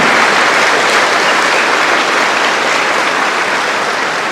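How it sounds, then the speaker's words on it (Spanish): An audience applauds a priest in a loud, dense, continuous wash of clapping that holds steady throughout, with no voices over it. "vamos a darle un aplauso al padre por ese conocimiento que tiene"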